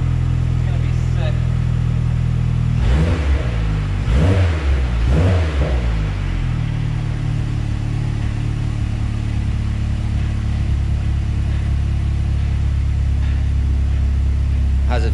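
A Mazdaspeed6 sleeper build's engine rumbles steadily throughout, with a few brief revving bursts near the start over a low, constant drone, and people talking nearby.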